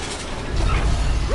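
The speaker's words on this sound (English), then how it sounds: "Rotate turret!" A short mechanical ratcheting whir of a turret rotating in the video game Horizon Zero Dawn Remastered, a brief close grinding of gears and pawls lasting about a second.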